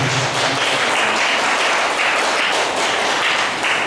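Audience applause at a peace and humanity award ceremony: dense, continuous clapping from a crowd, loud and steady throughout.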